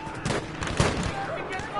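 Bursts of gunfire crackle and pop in quick succession, mixed with a busy game soundscape with explosions and grenades in the war game Tirailleur; a voice is faintly present underneath.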